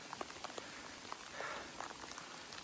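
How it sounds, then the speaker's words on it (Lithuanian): Rain pattering steadily on a surface outdoors during a bicycle tour through northern Sweden, with scattered close droplet taps over a constant soft hiss, no voices. "Kaip davė lietaus."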